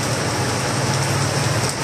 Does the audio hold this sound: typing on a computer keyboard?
no